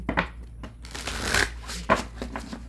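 Tarot cards being shuffled by hand, a run of crisp riffling bursts and soft slaps close up, with a small pause between passes.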